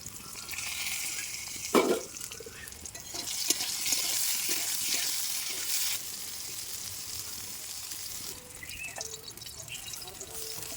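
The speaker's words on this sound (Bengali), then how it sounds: "তো ফ্রেন্ডস আমার বরবটি ভাজা হয়ে গেছে প্রায়" Yardlong beans fry in a pan with a soft, continuous sizzle and occasional utensil scrapes and knocks, some light watery dripping sounds, fairly quiet and close throughout.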